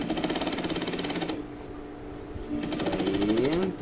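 A sewing machine runs fast, stitching along the hem of a trouser leg during an alteration, in two steady bursts with a short pause between them, close and fairly loud with no talking.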